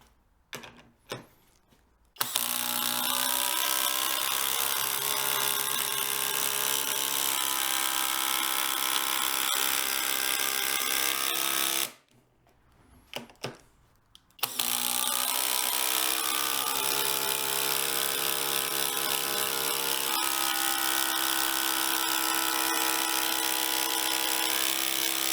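A FLEX 24V brushless impact driver hammers a fastener into a board in two long, loud bursts of rapid rattling impacts, each run cut by a short pause with faint clicks before the tool starts again.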